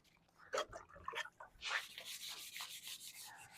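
A Mercedes-style grille on a Ram Sprinter van is lightly sanded to scuff its paint: a few short, separate rubbing strokes, then a quicker run of continuous back-and-forth scrubbing close by.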